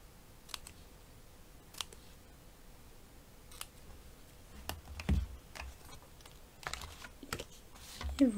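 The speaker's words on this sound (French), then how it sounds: "on coupe au centre, on rapproche les côtés et ça nous fait une petite bannière" Scissors cut paper for a small craft banner, making a series of crisp, sparse snips that come close and quiet. A few louder handling knocks land near the end.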